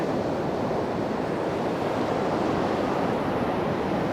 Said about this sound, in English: Look at the waves coming in too, mate. That's a decent wave right there.